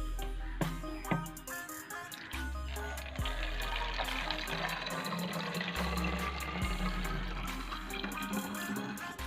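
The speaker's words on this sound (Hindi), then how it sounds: "सबसे पहले हम यहाँ पर इसको पानी डाल दे रहे हैं" Water is poured from a tap into the container of a homemade air paint spray gun, a steady trickling and filling sound with clicks and knocks of handling throughout, alone with no talk.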